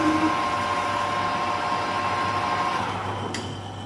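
A metal lathe turns a steel bar down to 19mm, a steady, loud machining whir with a constant motor hum and a sustained cutting tone, easing slightly near the end with a brief click.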